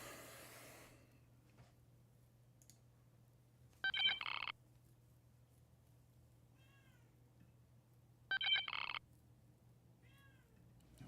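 A cat meows twice from outside, wanting to be let in; two bright, short calls several seconds apart over a quiet room with a steady low hum.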